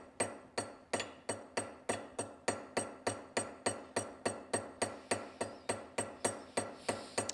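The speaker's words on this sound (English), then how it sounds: "I'm gonna use my ball peen hammer, which is right here, and I'm just really gonna be pushing this out from all directions because I'm creating a nail head rivet." A ball peen hammer gently taps a silver nail head rivet, about twenty-five light metallic strikes in a steady, even rhythm. The tapping is close and clear, with no talking.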